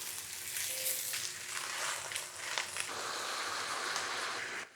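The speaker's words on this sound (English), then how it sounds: "I want to bring this whole thing to a simmer." Brisket simmering in liquid in a pot, a faint steady sizzling and bubbling with soft crackles throughout, no talk.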